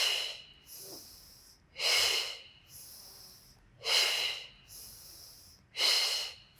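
Forceful exhales through the nose and mouth during a beginner Pilates core exercise, four loud, close breathy bursts spaced about two seconds apart, with quieter inhales between and no speech.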